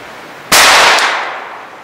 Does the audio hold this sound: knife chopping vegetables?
no